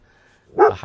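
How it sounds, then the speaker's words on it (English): A dog with a low, bassy undertone to its voice gives a single short bark from a played recording, abrupt and loud after a near-silent start. "the dog's got a low undertone"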